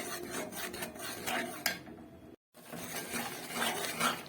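Spiced masala being stirred and fried in a pan, scraped by a spatula in steady rasping strokes that are close and fairly loud, with a brief pause partway through.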